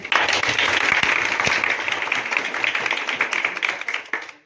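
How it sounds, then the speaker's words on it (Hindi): A gathered audience at an education talk in India breaks into brisk, fairly close clapping that holds steady for several seconds, then thins and fades out. "ऐसे सर के लिए ताली होना चाहिए"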